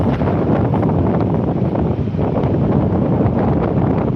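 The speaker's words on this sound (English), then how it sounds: "It is windy." Strong sea wind on a seaside promenade at Withernsea, UK, roars and buffets steadily against the microphone, a loud continuous rumble with no voices.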